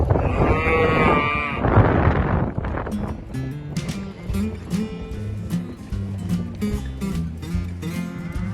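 Cattle calling on a ranch where a young horse is learning to work cows: a loud, drawn-out lowing call in the first two seconds, followed by quieter mixed ranch sounds.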